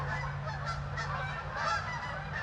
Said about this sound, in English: They're just flock after flock of Canadian geese coming to land on the cornfield